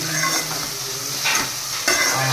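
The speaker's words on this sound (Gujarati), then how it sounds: "બસ આવી રીતના થોડીક હલાવવાનું છે" Onion and garlic chutney mix being stirred in a hot pan, a steady close sizzle with soft scraping strokes that swell briefly twice.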